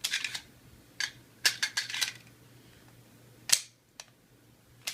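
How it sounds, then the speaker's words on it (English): A .45 ACP magazine seated into a 1911 pistol with a bobtail frame, going halfway and then snapping in: a series of close, crisp metallic clicks and clacks, one sharp snap standing out near the end, no talking. "So when I put this in, my particular gun goes halfway, and then it's kind of a quick snap in."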